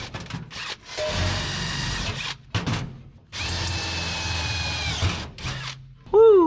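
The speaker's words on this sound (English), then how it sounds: "Inside all these same holes we just drilled, we're going to a 5/16." Power drill enlarging holes to 5/16 inch in metal during a 1930 Ford Model A build, two long loud whirring runs with short pauses between, close up.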